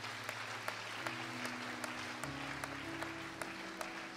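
A church congregation applauds in a steady patter of many clapping hands, heard faintly and at a distance, with a few sharper claps standing out.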